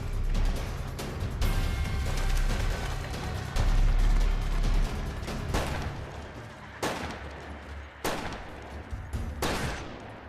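Gunfire rings out in a western shootout as a town is shot up, a dense volley of loud shots and bursts filling the scene, thinning into several separate sharp cracks toward the end, with no talking.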